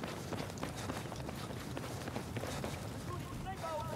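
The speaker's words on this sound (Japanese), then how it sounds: "足音してるんだよね" Running footsteps in the video game Battlefield 4 patter rapidly and steadily through a dense, noisy game mix of gunfire and ambience, while a player talks over them.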